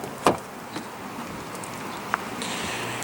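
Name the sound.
Lexus GS350 power side mirrors folding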